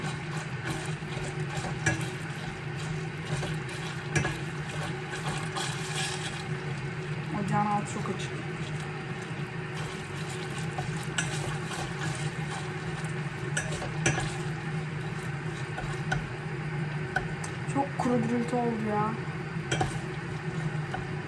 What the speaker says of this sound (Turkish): Şu an salçamı kavuruyorum kokusu çıkana kadar azıcık.